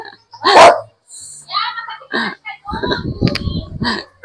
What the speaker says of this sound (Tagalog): Oy, aso!